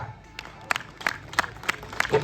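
Spectators at an outdoor wrestling dangal giving scattered bursts of applause, a handful of sharp claps and cheers spaced unevenly, fairly close and moderately loud.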